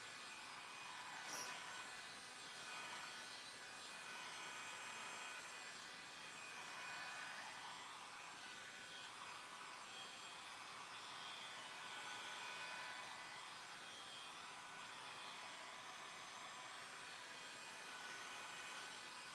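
A dryer blowing over painted canvas on a craft bag, a continuous even whooshing hum that holds steady for nearly twenty seconds with only slight swells, faint and alone.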